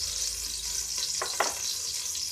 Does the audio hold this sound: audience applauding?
no